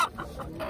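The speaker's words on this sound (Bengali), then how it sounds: "দেন মোরগ। মোরগটা কত?" A rooster at a Bengali market stall gives a few short, soft clucks in quick succession, faint and close, with no talk over it.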